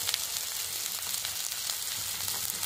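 Masala with chopped tomato frying in a pan, a steady bright hiss of sizzling oil with faint crackles, close and continuous, without talk.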